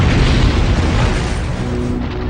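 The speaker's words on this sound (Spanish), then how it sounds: "Por eso estas explosiones atmosféricas también son muy peligrosas." A massive, sustained atmospheric asteroid explosion boom rumbles loudly, a dense roar of low noise that slowly fades.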